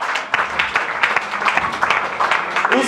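A church congregation applauding and cheering in acclaim of the Lord, with steady dense clapping and a few raised voices running throughout, moderately loud and close.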